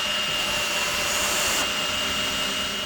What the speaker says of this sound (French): Et on va venir visser notre morceau.